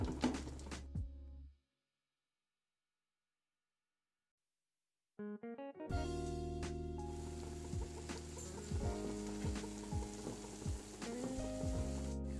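A Spanish omelette fries slowly in a pan while its second side cooks, making a steady, close sizzle that starts after a brief silence and continues with a faint tonal hum underneath.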